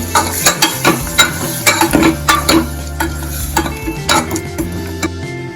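Drumstick curry with spices being stirred in a pressure cooker after water is added: a spoon scrapes and knocks against the metal in a quick, uneven rhythm over a soft sizzle, close and fairly loud, with no voices.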